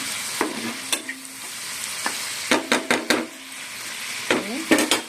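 A spoon scrapes and knocks around a cooking pot with a pinch of sugar in it. The strokes are loud, close and irregular over a light frying sizzle, with sharp clanks clustered toward the end.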